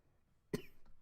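A single short, sharp cough, fairly close and quiet overall, with a faint trailing breath after it in an otherwise quiet room.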